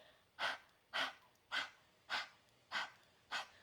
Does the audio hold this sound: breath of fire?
yes